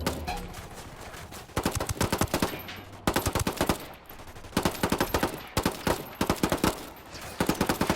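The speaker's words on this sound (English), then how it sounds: "SMGs are one thing they're generally known for in this game is their high rate of fire" SMG fire in Ghost Recon Wildlands, the video game: loud, close automatic bursts with a high rate of fire, broken by short pauses, and no voices over them.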